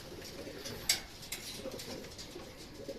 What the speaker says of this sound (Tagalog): Huli pang pumasok yung first bird.